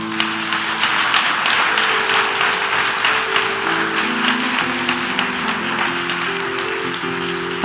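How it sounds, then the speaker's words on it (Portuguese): A church congregation at a Sunday evening service applauds continuously, a dense even clatter of clapping over sustained organ or keyboard notes. "Pode aplaudir a Jesus."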